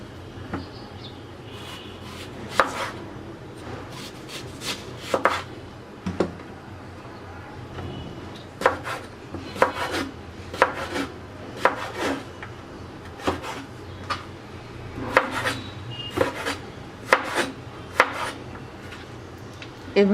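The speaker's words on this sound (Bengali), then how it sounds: "এখন আমরা আমগুলোকে একটু মোটা করে চুরি করে কেটে নেব" Peeled raw green mangoes are cut into thick strips with a knife on a board, giving irregular crisp chops and taps in short bursts over about twenty seconds, close by, with no talking.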